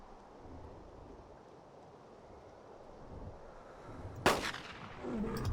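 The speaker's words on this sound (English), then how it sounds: "I shot with the revolver." A single sharp revolver shot goes off at about four seconds in the PC game Carnivores: Dinosaur Hunt, loud and close, ringing out over a steady windy, rain-like outdoor ambience.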